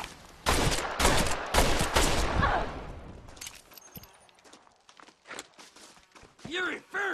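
Gunshots in a Red Dead Redemption video game duel in Mexico, a rapid burst of loud close shots in the first seconds followed by scattered quieter sounds, footsteps and a voice talking.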